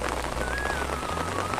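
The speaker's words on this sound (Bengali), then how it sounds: "খুব হালকা বৃষ্টি পড়ছে," Light rain falls outdoors with a steady, even patter on surfaces, soft and continuous, with no one speaking.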